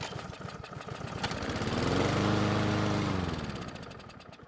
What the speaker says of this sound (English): the engine starts and runs, and it sounds pretty good as well